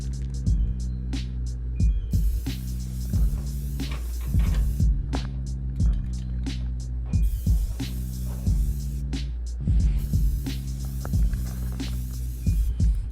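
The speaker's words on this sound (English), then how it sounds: "All right, get this welded up real quick." A hinge is welded onto a pipe for a classic Mini's rear electric windows, giving a steady buzzing hum broken by rhythmic crackling pulses. The sound is close and continuous for several seconds, with no talking.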